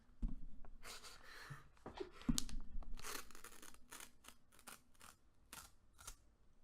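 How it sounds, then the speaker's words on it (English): Paper tears right up against the microphone in a series of crisp, crackling rips and rustles, loud and intimate, with short pauses between strips. "Get really close to the mic and tear the paper"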